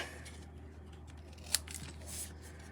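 Scissors snip paper at a papercraft table in a single sharp, close cut, with faint rustling afterward over a low steady background hum.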